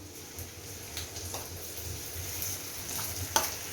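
Grated ginger and garlic fry in a pan with a steady, soft sizzle and crackle, punctuated by a few sharp ticks of stirring, moderately quiet and without voices.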